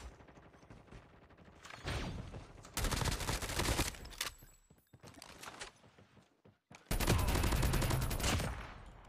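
Gunfire in a Call of Duty Mobile battle royale match, loud bursts of rapid automatic shots with short pauses between volleys, the heaviest sustained burst at the end.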